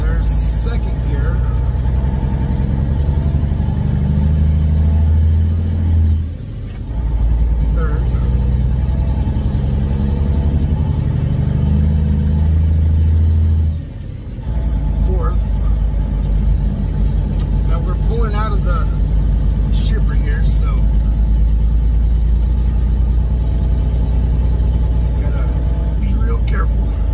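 Semi truck with a 13-speed manual transmission pulling in second gear at about 4 mph, lightly loaded: a loud, steady low diesel rumble with two brief dips as it shifts, continuous throughout.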